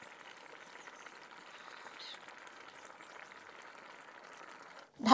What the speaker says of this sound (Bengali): তরকারি ফুটে গেছে, এবারে আমি ডিমগুলো দিয়ে দেব।